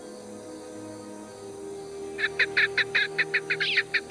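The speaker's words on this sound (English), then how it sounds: "It's definitely a partridge." A partridge in the Sherlock Holmes Nemesis video game gives a rapid run of about ten harsh, honking call notes in quick rhythm, fairly close, over a low musical drone.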